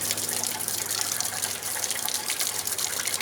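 Water runs and splashes steadily from a hole in the hose of a 1979 55 hp Evinrude outboard motor, a continuous close gushing with no pauses.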